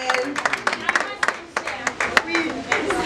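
A small crowd at a family gathering claps in uneven bursts, the scattered applause sounding close and lively while people talk over it.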